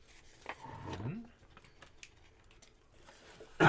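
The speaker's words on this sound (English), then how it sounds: "Scissors are sharp." Paper being cut with scissors in the video game Clip Cut Parks, heard as a short snipping burst near the start, then quiet rustling, and a loud sudden noise at the very end.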